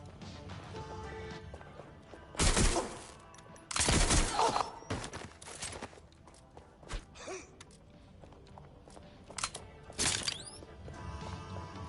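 Gunfire in the video game Watch Dogs: Legion comes in a few sharp, loud bursts separated by quieter stretches, with faint scuffling movement between the volleys.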